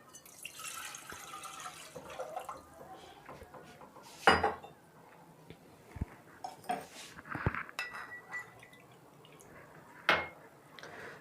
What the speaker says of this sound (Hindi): इसके अंदर हम 2 कप दूध डालेंगे।